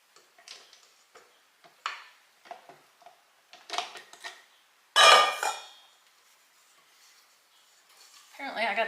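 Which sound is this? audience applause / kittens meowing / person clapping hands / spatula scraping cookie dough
spatula scraping cookie dough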